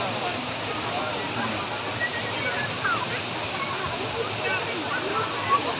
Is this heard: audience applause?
no